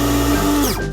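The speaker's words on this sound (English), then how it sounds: "And I'll blend the milk on my own as well." A small electric milk frother or blender whirring as it froths milk for coffee, giving a loud, steady motorized drone whose pitch shifts and winds down near the end.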